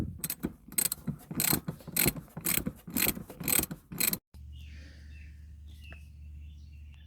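Hand ratchet loosening a T50 Torx bolt in a junkyard, giving a quick series of loud, close clicking strokes in bursts, then stopping abruptly into quiet outdoor ambience with faint birdsong.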